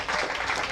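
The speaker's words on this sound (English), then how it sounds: "Give her a round of applause." Audience applause at a business and professional women's event, a short burst of clapping from the room, moderately loud and brief.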